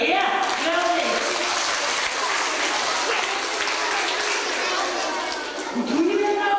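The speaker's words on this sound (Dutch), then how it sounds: "Klappen, ja, geweldig." Audience claps after a magic trick in a 1986 school show, loud continuous clapping with children's voices and chatter mixed in.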